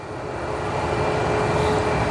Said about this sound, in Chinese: 这架飞机也是一架波音的737-800的 MAX 机型啊